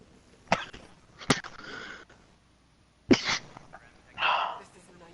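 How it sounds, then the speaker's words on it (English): A person lets out four short, sharp, high-pitched sneezes, each an abrupt burst that sounds almost like a dog's yelp, spaced unevenly with quiet gaps between them. "I hate when I sneeze."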